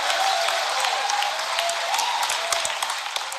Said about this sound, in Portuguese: Eu aplaudo vocês.